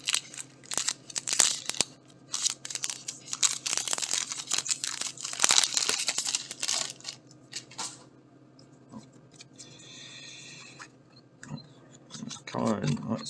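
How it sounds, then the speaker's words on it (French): Foil wrappers on Magic: The Gathering Dominaria United booster packs crinkle, tear and crumple, with dense handling noise and clicks under steady talk, then a quieter stretch before more crackling. "Il nous reste 5 boosters à déballer."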